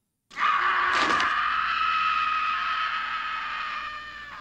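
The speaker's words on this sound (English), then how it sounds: "But that scream, though." A long, loud scream from a horror film starts abruptly and holds for about four seconds before slowly fading, with a brief crash near its start and no talk over it.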